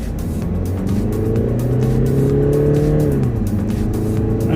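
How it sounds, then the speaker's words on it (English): A Mercedes CLA 220d diesel car with an engine warning light and limp-mode fault accelerates hard toward the red line, its engine droning loud and close, pitch climbing steadily before easing off. "I can actually rev the car as much as I want and pull it really hard"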